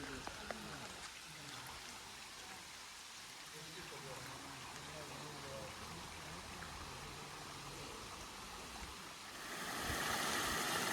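Water streams steadily at Kailasakona waterfall, a continuous broadband rush that holds at an even level and swells louder near the end, with no voices over it.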